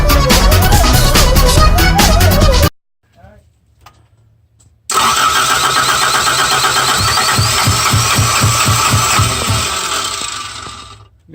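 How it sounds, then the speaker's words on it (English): An engine with no fuel in the lines is cranked for a long stretch, a loud rapid rhythmic churning of the starter after a burst of voices and a brief quiet gap, tapering off at the end. "you're gonna have to crank it for quite a while"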